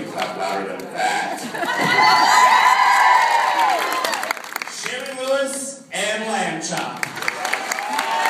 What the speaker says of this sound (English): you can clap louder than that